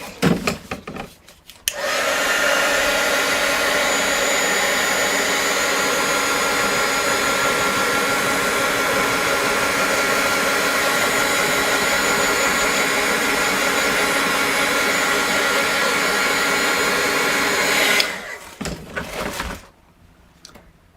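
A hair dryer switches on and blows with a loud, steady whoosh for about sixteen seconds, then cuts off, with brief handling noises before and after.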